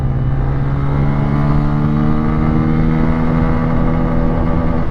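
A Bajaj N160 motorcycle engine pulling hard in second gear, a steady loud drone with strong low harmonics that hold fairly even, heard close and alone.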